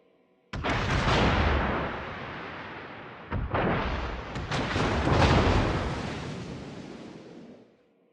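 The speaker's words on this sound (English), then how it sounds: "All stations, concentrate fire on the target." Heavy naval guns of a World of Warships battleship boom in two loud salvos, each blast rolling into a long rumbling decay before the sound fades out, with no voices.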